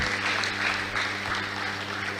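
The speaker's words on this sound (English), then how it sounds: "Please, another round of applause for him." Audience applause at a professional association's annual general meeting and conference in Enugu, a steady dense clapping from a seated crowd that holds evenly throughout and carries no talk.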